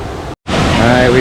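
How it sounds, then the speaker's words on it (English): Steady broadband rush of water at a waterfall, loud and close, briefly cut by a short silent gap before continuing. "Water running in here from all over the place"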